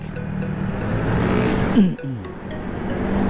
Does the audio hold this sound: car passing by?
yes